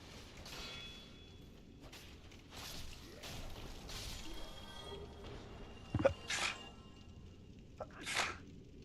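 A single sharp sneeze stands out from a quiet room during a Dark Souls Remastered gaming session, followed by a fainter second burst, with soft background noise around them.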